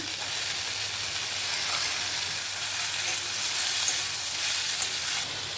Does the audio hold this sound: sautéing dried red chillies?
yes